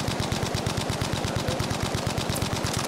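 A Bren light machine gun in Battlefield V rattles off a fast, evenly spaced stream of shots, steady and close, with no voices over the burst.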